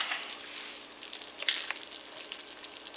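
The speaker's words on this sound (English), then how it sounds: "let me just stir this a little more" Food frying in a pan while spaghetti is cooked, stirred now and then: a faint, continuous sizzle with small crackling pops and a couple of sharper spatters, no talk.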